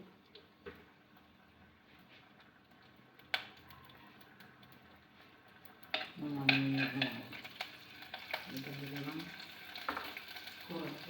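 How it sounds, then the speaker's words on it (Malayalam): Curry leaves are dropped into hot oil, and after a quiet stretch a sudden crackling sizzle bursts up and then keeps spitting at a lower level. A voice speaks briefly near the end. "അതിൻ്റെ കൂട്ടത്തിൽ തന്നെ 2 കതപ്പ് കരിവേപ്പില ഇട്ട് കൊടുത്ത്"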